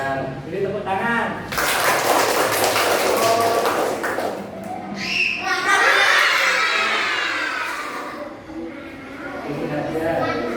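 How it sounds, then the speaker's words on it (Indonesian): Children in a classroom break into applause: a loud burst of many small hands clapping, then a second swell mixed with excited shouting and chatter before fading out. "ya, beri tepuk tangan."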